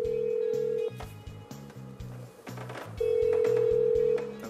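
Telephone ringing tone heard during a call, two long steady rings over a busy, muffled background of music and chatter from a television studio.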